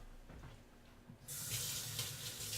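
Kitchen tap running into a sink for handwashing while cooking French toast, a steady broad hiss of water that starts abruptly after a quiet moment and continues loud to the end.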